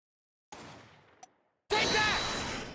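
Gunshots played back from a recording in the Apollo Justice video game: a sharp burst of fire, a brief crack shortly after, then a louder, sustained spray of shots with a ringing tail.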